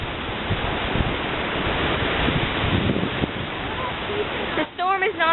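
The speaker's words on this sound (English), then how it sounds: "The storm is not over. It is still windy." Strong wind from Hurricane Irene roaring steadily and loudly against the microphone, a continuous buffeting rush with a brief dip near the end as a voice begins to speak.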